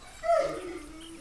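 A dog in the hunting video game theHunter gives a short whining yelp that bends downward and trails off into a soft whimper, moderately close and alone.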